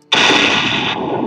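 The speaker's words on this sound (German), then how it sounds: "Explodieren die Fässer." Barrels explode in the video game Postal 2, one sudden loud blast with a sharp onset followed by a sustained roaring, crackling tail, heard alone without speech.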